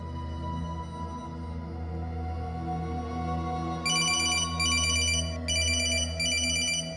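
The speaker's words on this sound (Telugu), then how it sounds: "నా ఫోన్ రింగ్ అవుతుంది" A mobile phone ringtone begins partway through, a bright melodic ring repeating in short bursts over a steady low background hum.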